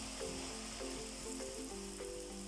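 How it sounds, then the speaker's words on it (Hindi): Poori fries in very hot oil, giving a steady, dense sizzle that runs throughout, with a soft melodic tune playing in the background. "एक एक करके हम पूड़ी डालते जाएंगे। ऑयल इसके लिए बहुत गर्म होना चाहिए, तड़का हुआ।"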